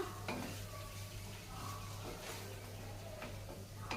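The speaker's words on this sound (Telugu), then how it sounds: "ఒక స్పూన్ కారం వేసేద్దాము ఇప్పుడు కారం ఒక స్పూన్ వేస్తాం కదా ఫ్రెండ్స్ ఇప్పుడు కలిపేసుకుందాం మనం" Jackfruit seed curry with salt and chili powder being stirred in a pan, soft sizzling with repeated spoon scrapes and taps against the pot, fairly quiet and close.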